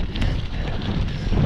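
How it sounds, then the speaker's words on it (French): Strong wind buffets the microphone on an exposed hillside during a cross-country mountain bike climb, a steady loud roaring rush with gusty swells and no talking. "C'est trop dur d'avancer avec le vent."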